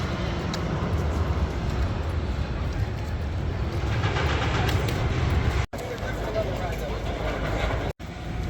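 X2 roller coaster train running at Six Flags Magic Mountain, a broad rolling rumble that holds steady and then cuts off briefly twice, with faint crowd voices mixed in.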